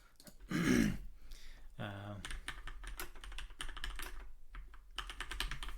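Fingers type on a computer keyboard in quick clicking bursts with brief pauses between them. A voice speaks early in the clip.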